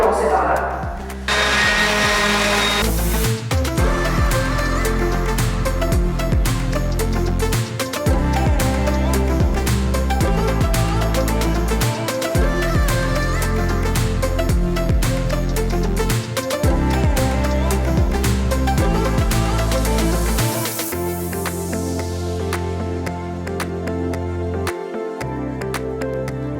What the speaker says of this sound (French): J'ai choisi de poncer avec la ponceuse excentrique plutôt que la girafe